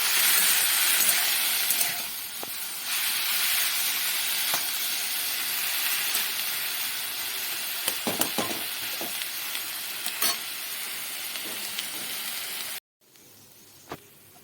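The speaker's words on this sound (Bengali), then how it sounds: "শাকগুলো সব কিছুর সাথে বেশ খানিকটা সময় ধরে কম আঁচে নাড়াচাড়া করে ভাজা ভাজা করতে হবে।" Taro greens frying over low heat while being stirred, a steady close sizzle with scraping stirring strokes throughout, stopping abruptly near the end with quiet background remaining.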